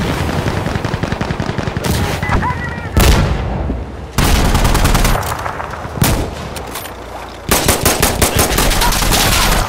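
Heavy vehicle-mounted machine gun fire in a modern combat game, loud sustained bursts and rapid rattling volleys with booming impacts, breaking off briefly between strings of shots.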